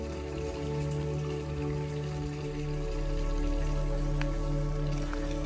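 Rain falls steadily during a hike in Albania, a dense patter of drops on surfaces and gear mixed with a low steady hum, continuous and close with no talk.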